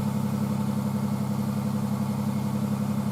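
A car engine idles just after being started, giving a steady, even low hum for the whole stretch with no other sound.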